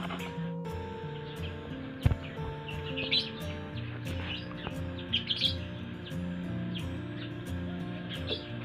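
A parblue lovebird chirps in short, scattered tweets while a leg ring is fitted, the calls close and moderately loud over faint handling noise.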